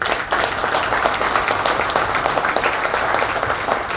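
An audience at a bank officers' association gathering claps steadily in a hall, dense and fairly loud applause holding evenly throughout without a break.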